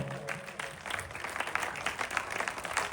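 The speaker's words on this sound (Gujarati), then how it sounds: "આ સન્માન થતું હોય ત્યારે તાળીઓ બંધ ન થવી જોઈએ" Audience applause for an honoree at a talent award ceremony in Bhavnagar, a steady wash of many hands clapping at a moderate distance, continuous for a few seconds with no speech.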